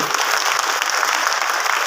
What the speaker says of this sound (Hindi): मैं चाहूंगा इन लोग के लिए एक जोरदार ताली होनी चाहिए दोस्त